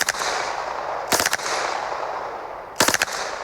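Submachine gun fires two short, loud bursts of rapid shots about a second and a half apart, with hissing background noise between them.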